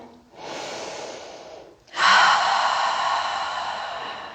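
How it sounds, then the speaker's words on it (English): Two deep, audible breaths are drawn in through the nose, close and breathy, the second longer and louder, during a relaxation exercise. "go ahead and close your eyes and inhale"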